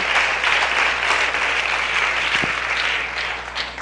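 Continuous audience applause at a live Easter event in Nahualá, a dense wash of clapping with a low steady hum underneath, gently fading toward the end.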